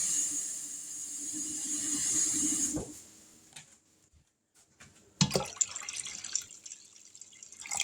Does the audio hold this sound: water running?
yes